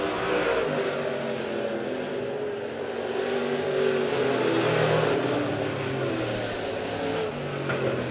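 USRA B-Modified race cars roaring around the Monett Motor Speedway oval during a heat race, a continuous distant engine drone that swells and fades as cars pass, with no talk over it.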